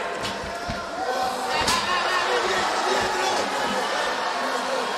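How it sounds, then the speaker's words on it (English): Steady crowd roar at a Cage Warriors MMA bout, rising and swelling as strikes land, with thumps and a brief sharp impact in the noise and voices mixed through the din. "The crowd making a lot of noise every time he lands something."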